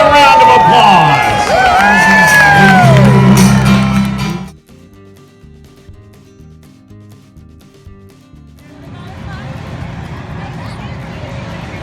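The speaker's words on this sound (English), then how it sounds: "Give yourselves a round of applause." Crowd cheering and applauding in the stands at a fair rodeo, loud and dense for about four seconds before cutting off to quieter background noise.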